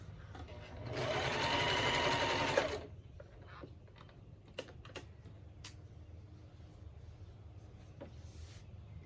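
A domestic sewing machine stitches slippery fabric with a steady, close whirring run of about two seconds, followed by quieter scattered clicks and taps.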